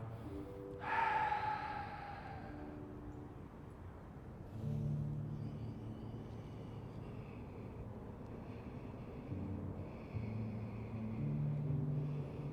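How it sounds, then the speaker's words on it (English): A free outdoor yoga class at Millennium Park breathes together, with a sharp exhale out the mouth early on and softer breaths later over a steady, low drone of a passing aircraft. "Deepen your inhale, lengthen your exhale, relax your hips, spine, forehead."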